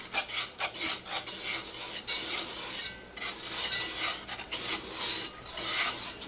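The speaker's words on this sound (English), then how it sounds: "get all that nice yummy browning off the bottom" A utensil scraping and rubbing across the bottom of a pot to loosen browned bits into roux for a lamb stew, with repeated rasping strokes in an uneven rhythm, close and alone.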